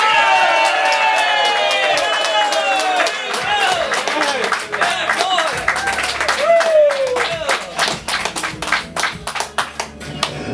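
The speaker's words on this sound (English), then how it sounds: "Round of applause for Mr. Larry Jemison Sr." A comedy-show audience applauds and cheers as Larry Jemison Sr. is introduced, with loud, dense clapping and whoops that thin into scattered claps by the end; voices call out over it.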